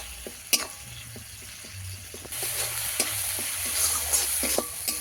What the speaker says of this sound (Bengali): ভালো করে মশলা কষিয়ে নিতে হবে